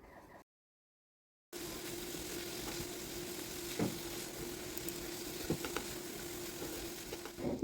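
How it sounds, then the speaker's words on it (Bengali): Carrot and cabbage soften gently in a hot pan, a steady low sizzle with faint stirring scrapes, starting after a brief silent gap and staying even throughout. "গাজর বাঁধাকপি আমরা হালকা করে একটু নরম করে নেব।"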